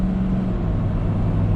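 A 2020 Ford Super Duty pickup with a 10-speed transmission accelerates while towing a gooseneck trailer, a steady low engine drone heard from inside the cab, even and continuous with no voices.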